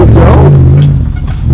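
A Toyota Sequoia with a 4.7-liter V8 and MagnaFlow exhaust, parked on an off-road trail, gives a loud, close rev that drops away after about a second into a rougher idle rumble.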